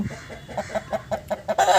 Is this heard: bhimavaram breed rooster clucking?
yes